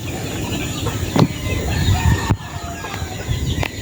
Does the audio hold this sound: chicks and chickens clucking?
yes